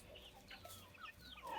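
Faint, brief clucking from a small flock of hens with eleven young chicks, soft scattered calls rising slightly toward the end.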